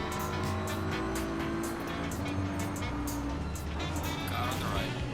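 Race cars roaring around the Hungaroring circuit in Assetto Corsa Competizione, including a Porsche: loud, continuous engine whine close up with shifting revs and tire noise, while a voice speaks over the racing.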